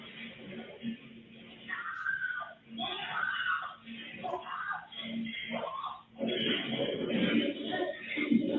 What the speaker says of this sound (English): the horrifying blood-curdling scream